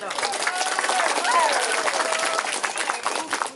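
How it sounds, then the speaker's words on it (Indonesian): Audience applause at a community arts gathering in Balingka, greeting a newly formed children's art studio, a dense, steady wash of clapping with some voices mixed in throughout. "Tepuk tangan untuk dia kita."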